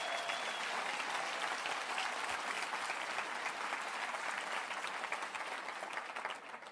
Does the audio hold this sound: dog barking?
no